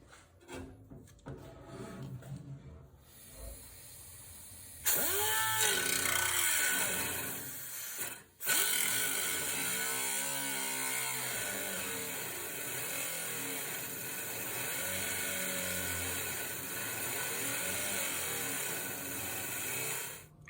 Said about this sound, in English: I'll take my cutting wheel and just cut down through there, and hopefully have this old rail out